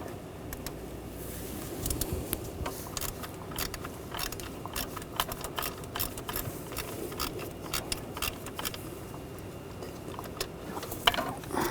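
A ratchet fitted with a 13mm socket works a bolt loose from below on a 2013-2019 Ford Escape 2.0L engine, giving quick runs of sharp clicking pawl ticks in irregular bursts, close and fairly quiet, with no speech.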